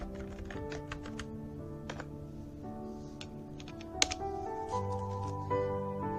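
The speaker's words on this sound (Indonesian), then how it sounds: "Kita ketikkan instruksinya." Commands typed on a computer keyboard while configuring an Ubuntu Linux server in VirtualBox: a steady run of clicking keystrokes over a constant humming background.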